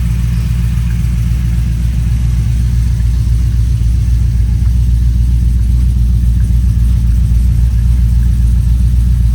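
A Chevy truck engine fitted with a BTR Stage 3 cam and still untuned runs continuously, a loud, close, deep rumbling idle with a steady throb and no voices over it.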